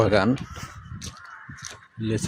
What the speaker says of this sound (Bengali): এই যে পাখপাখালির ঢাক শোনা যাচ্ছে এদিকে।